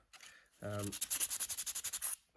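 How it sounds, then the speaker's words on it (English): Sandpaper scuffing the frame of a MK3 Raleigh Chopper bike during teardown, a quick run of about a dozen rhythmic rasping strokes, close and fairly loud, following a brief low hum. "Give it a little scuff on better grade sandpaper"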